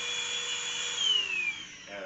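A Keromee BW119 cordless vacuum cleaner runs at its faster speed, giving a steady high whine that stays moderately loud, rises briefly, then the pitch slides down as the motor shifts.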